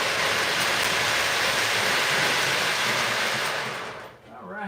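An O gauge model train rolls across a lift bridge on a home layout, a dense, steady rumbling roar that holds for about four seconds before fading quickly away.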